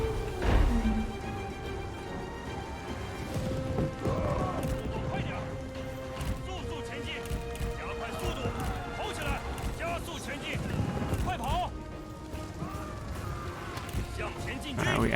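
Horse hooves clip-clop at a gallop in a Lu Zhi action video game, a steady rhythmic pounding mixed with game music and effects, with someone talking over it throughout.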